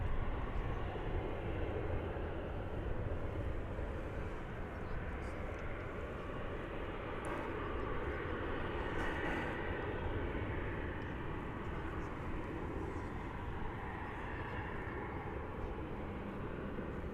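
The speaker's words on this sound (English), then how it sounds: "there's a plane landing right now. You'll hear it go by." A plane landing at DFW Airport, heard as a faint, continuous broadband engine roar that stays fairly even and distant throughout.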